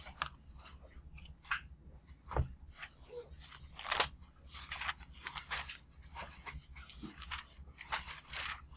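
Scissors cutting out paper in a classroom, a faint, irregular series of snips and crisp paper rustles with quiet gaps between them, heard alone.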